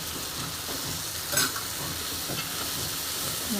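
Bottle gourd sabji with chilli powder, coriander powder and turmeric being stirred in a hot pan, giving a steady close sizzle with soft scraping strokes and one sharper clatter partway through.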